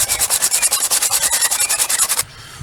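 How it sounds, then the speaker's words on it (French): Rapid rhythmic strokes of hand sanding scrape across the inside of a motorcycle fairing, a steady back-and-forth rasp close up for about two seconds before stopping. "va faire un ponçage à la main sur l'intérieur du carénage"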